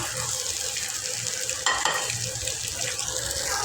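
Two eggs fry in oil in a pan, sending up a dense, continuous close sizzle with a brief louder burst of spitting near the middle.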